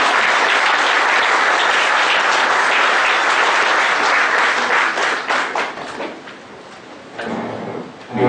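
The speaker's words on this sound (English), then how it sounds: "Please thank them with a round of applause" An audience at an income tax workshop applauds the chief guest with loud, sustained clapping that thins into scattered claps and then fades out near the end.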